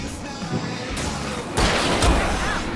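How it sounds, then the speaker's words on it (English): Fireworks explode in the video game Alan Wake with loud, booming bursts and crackling thuds amid continuous noisy chaos. The blasts grow heavier and denser toward the end. "I can set off more of the fireworks from here and help you out!"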